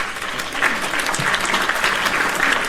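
Hand claps fired off as a sound effect, a dense burst of applause-like clapping that carries steadily for nearly three seconds at moderate loudness, without speech on top.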